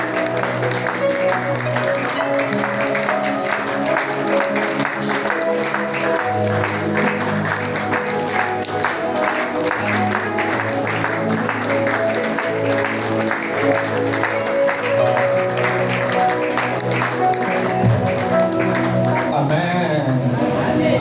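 A congregation at a French-language worship service applauds and cheers in sustained, loud clapping for about twenty seconds, with music and voices running underneath.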